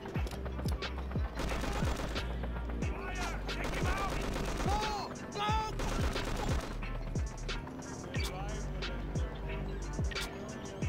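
Gunfire in the video game Just Cause: a steady stream of sharp shots and bursts crackles over a busy, layered backdrop of game music and effects, continuing throughout.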